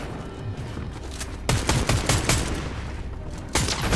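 Rifle gunfire in a shooter video game: several sharp, loud shots in an irregular burst midway, then another blast near the end, over a dense, steady game soundscape with no talk.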